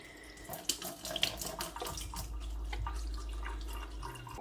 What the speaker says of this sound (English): so I'm going to water it with the watering can.